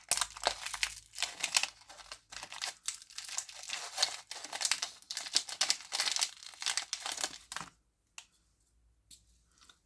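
Plastic packaging from an AliExpress order being torn open and crinkled up close, bursts of crackling and rustling that stop abruptly, leaving near silence at the end.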